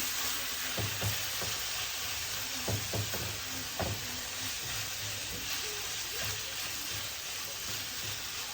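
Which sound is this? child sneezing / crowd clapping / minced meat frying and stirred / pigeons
minced meat frying and stirred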